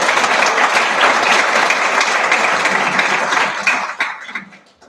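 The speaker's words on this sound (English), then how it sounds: "this crowd should give her an applause." A crowd at a public hearing applauds loudly and steadily for several seconds, then the clapping fades out and stops near the end.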